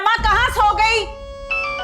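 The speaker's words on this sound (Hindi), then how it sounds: "तुम्हारा फोन बज रहा था" A phone ringtone plays a bright electronic melody close by, with a voice speaking over it partway through.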